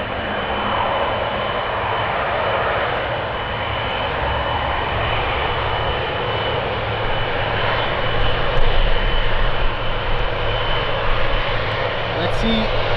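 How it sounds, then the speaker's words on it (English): A Lufthansa Boeing 777 comes in to land on runway 25R at a freezing Frankfurt airport, its engines a loud, steady roar that swells slightly toward the end. "So she won't cross the landing of the Lufthansa 777 that's coming in."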